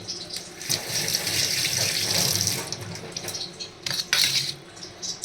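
Tap water runs into a kitchen sink as ingredients for a chicken curry are washed, a steady splashing stream with light clinks of dishes near the end and no talk.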